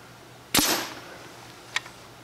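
A custom Nerf Titan rocket launches on compressed air at 90 PSI, one sharp loud pop with a short hissing rush of air after it, then a faint small knock a second later.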